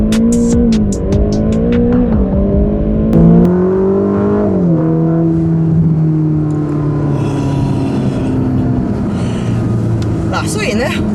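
A Ferrari Roma with an eight-speed dual-clutch gearbox, driven in automatic mode, its engine pulling hard through the gears with a loud, rising and falling tone and clear shift changes, while a voice talks over it.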